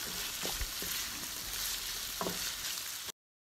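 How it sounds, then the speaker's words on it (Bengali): Carrot pieces frying in a pan for a chow mein, a steady close sizzle with a couple of soft stirring knocks, no voices, ending abruptly. "গাজরটাকে আমি এখন একটু ভাজা ভাজা করে নিব"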